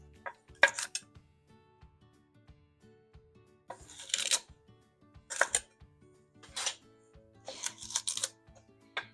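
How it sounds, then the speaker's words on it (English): Baby carrots sliced with a knife on a cutting board for a hearty lentil soup, a few spaced bursts of crisp chopping with quiet kitchen clinks between them. "Just slice up your carrots however you like them."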